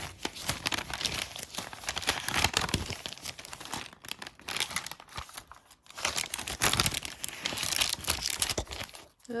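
Vintage paper for a junk journal crinkles and rustles as it is handled, continuous close-up crumpling in bursts with brief pauses between.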